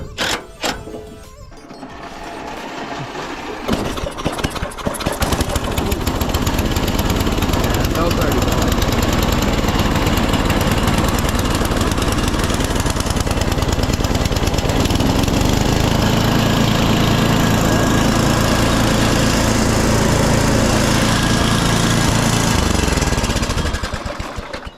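A free snowblower engine runs loud and close with its belt far too tight, a steady rough roar that starts after a few seconds and holds to the end, with people talking over it.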